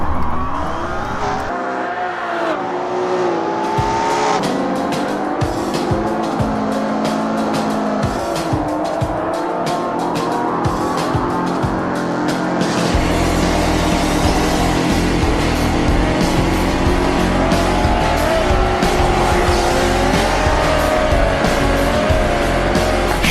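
Touring race cars at a race start in the BeamNG video game, engines revving hard together and tires squealing as the pack launches, with dense continuous car noise throughout and a louder, fuller roar in the second half.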